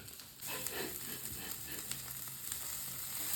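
A tomato omelette frying in a pan, a soft continuous sizzle and crackle close by, fairly quiet and steady with no talk.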